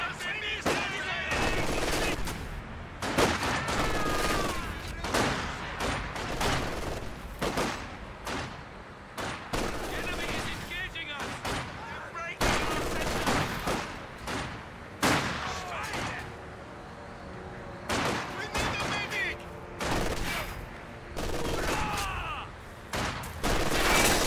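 Gunfire in a snowy Company of Heroes 2 battle with Russian snipers, repeated loud shots and bursts scattered throughout, mixed with shouted voices and battle noise.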